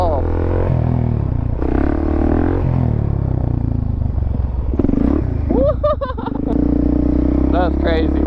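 Supermoto motorcycle ridden on a small ski area, its engine droning and revving under loud excited talk, with clattering and a few sharp high-pitched tire or engine sweeps near the end.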